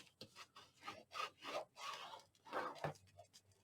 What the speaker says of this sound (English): Open it up and burnish on the inside.